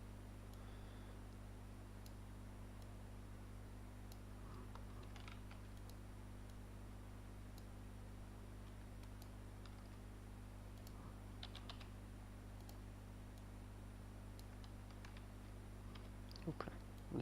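Computer keyboard typed on blind while working at a desk, faint scattered keystrokes and clicks over a steady electrical hum, irregular and quiet throughout.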